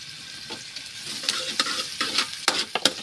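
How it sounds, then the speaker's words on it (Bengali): An egg frying in a pan, crackling and spattering with sharp pops that grow denser toward the end over a soft steady sizzle, close and fairly loud. "পাকিস্তানি ছেলে ডিম ভাজি দেখেন"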